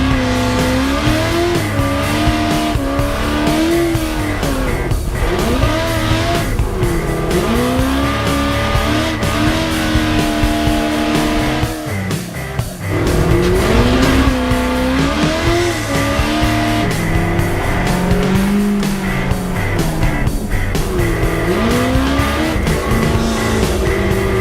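A nitro-powered RC trophy truck screams around a slippery track, its high-pitched engine whine rising and falling steadily as it slides through turns, loud and continuous with a brief dip midway.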